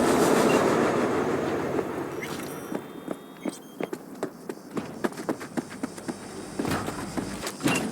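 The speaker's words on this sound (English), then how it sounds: "All right, the train's leaving." A train departing in the video game Cyberpunk 2077, with a rhythmic clickety-clack of wheels over rail joints that speeds up steadily, loud and close, with no talk.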